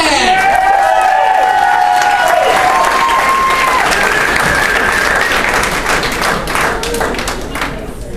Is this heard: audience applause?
yes